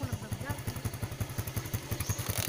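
A motorcycle rides along with a fast, regular pulsing engine beat and rattling clatter heard up close, joined by rushing wind noise.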